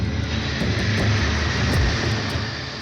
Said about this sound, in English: The plane flies low nearby and drops 15 small boxes